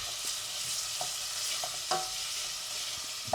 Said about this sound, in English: You can hear them sizzling, lovely.